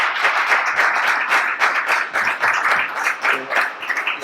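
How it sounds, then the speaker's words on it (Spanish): Audience applause at a talk on flamenco song in a poetry and cante series, a moderately sized group clapping in uneven surges with distinct individual claps audible, sustained for about four seconds. "le damos un aplauso a Laura por esto"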